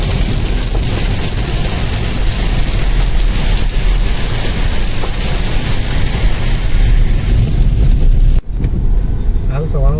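Steady heavy rain pours in a dense, loud, continuous hiss outdoors, with a low rumble underneath, cutting off abruptly near the end.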